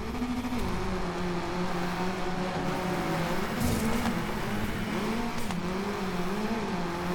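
A Lancia 037 rally car engine in the racing game Gravel drones continuously, its pitch rising and falling as the throttle shifts, with occasional brief bursts of tire or gravel noise.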